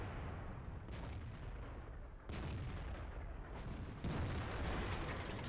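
Tank cannon fire in the World of Tanks video game, heard as three heavy booming shots spaced a second or two apart, each a sharp blast over a continuous rumbling battle background, with no talking.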